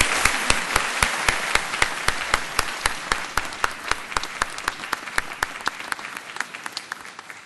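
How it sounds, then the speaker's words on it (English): An audience in a hall applauds at the Allard Hall official opening ceremony, heard as dense, sustained, fairly loud clapping from many hands with sharp individual claps standing out near the front. "So once again, applause."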